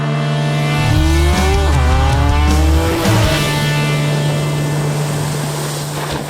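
A 2017 Honda Civic Type R drives hard on a racetrack near Montreal, its engine loud and close as revs climb and fall through gear changes, with a steady high drone behind them.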